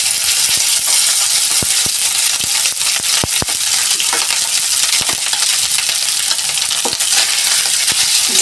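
Cooked rice sizzles and hisses in a hot pan with bay leaves and green chillies while a spoon scrapes and clinks against the metal at irregular intervals.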